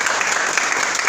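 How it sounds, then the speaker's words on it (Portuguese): Church congregation clapping together in a steady burst of applause during a worship service, dense and fairly close, with no talk over it. "Vou dar uma salva de palmas para Jesus."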